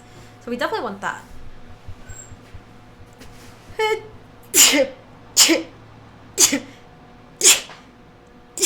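Sharp sneezes burst out one after another at a table during a Magic: The Gathering card draft, loud and close, with people chatting around them.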